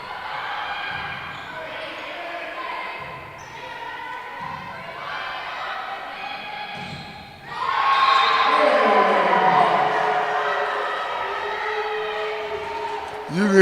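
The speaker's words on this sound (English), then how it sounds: "You can hear the fans being sarcastic, giving a loud cheer" Fans at a women's college volleyball match between the Jackson College Jets and Henry Ford College Hawks break into a loud, sustained sarcastic cheer in the gym after a few seconds of quieter crowd noise and talk.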